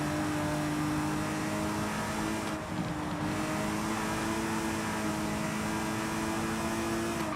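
A 4-liter car engine in Forza Horizon 5, a loud, sustained mechanical drone holding steady tones with a brief dip midway, close and continuous without talk.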